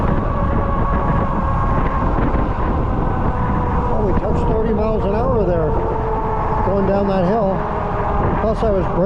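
Steady wind roar buffets the microphone of a Rad Rover e-bike riding into a headwind, a continuous loud rush filling the whole stretch, with faint whining tones and a voice briefly talking underneath.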